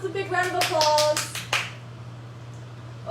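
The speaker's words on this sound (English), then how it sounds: "Let's give ourselves a big round of applause." Kids and parents at a home parent-child gym class clap in a short, uneven burst of a few loose claps near the microphone, with a voice briefly heard, before it fades to quiet room hum.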